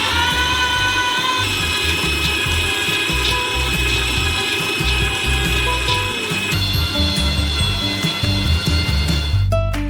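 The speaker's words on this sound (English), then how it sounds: "We transfer them into a meat grinder. And grind them through a small nozzle." A meat grinder forces a large batch of nuts through a small nozzle with a loud, steady mechanical whir and grinding hum that runs unbroken throughout, close up with no voices.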